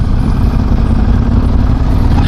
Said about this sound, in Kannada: ಇದು ಸ್ಟಾಕಲ್ಲಿ ಅಷ್ಟು ಸೌಂಡ್ ಬರೋಲ್ಲ, ಬಟ್ ನಿಮಗೆ ಟರ್ಬೋ ಸಕಾಲಾಗಿ ಕೇಳಿಸುತ್ತೆ